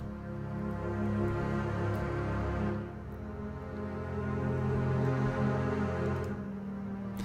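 Low bowed string basses sustain layered chords, swelling and shifting in a smooth, continuous bed with no voices.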